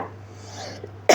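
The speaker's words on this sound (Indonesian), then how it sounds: "mana tahu terlalu kenceng tadi suara batuknya" One loud, abrupt cough erupts close to the microphone at the very end, after a second of quiet room hum with faint breathing.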